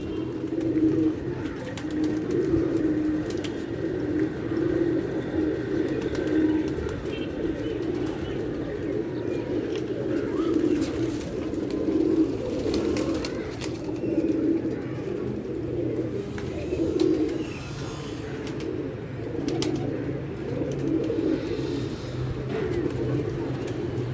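A captured pigeon coos in a steady, low, repeated rhythm close by, with soft rustling and faint background noise throughout.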